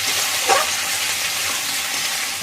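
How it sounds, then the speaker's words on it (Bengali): Spices frying with salt and turmeric for a flat-bean chorchori, an even, close sizzle with a brief stirring scrape near the start. "আর একটু ভেজে নেবো নুন হলুদটা দিয়ে।"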